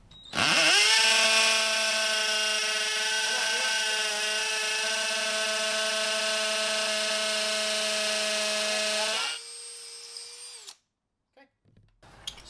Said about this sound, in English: we're going to drill through these holes into the concrete